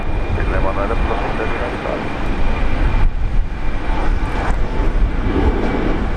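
An E190 airliner landing on runway 19 left at Brisbane Airport in a 20-knot wind, a loud steady broadband jet roar running throughout with a brief dip midway, and voices faintly under the noise.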